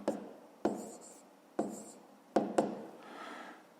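A pen or chalk writes numbers for a fifth-grade math exercise in short repeated strokes, about five sharp taps each followed by brief scratching, close and fairly quiet, with no voice.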